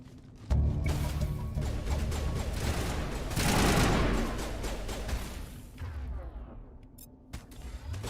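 Gunfire in the Mass Effect video game: a sustained, loud burst of rapid shots that swells in the middle and then thins into scattered reports, with no talk over it.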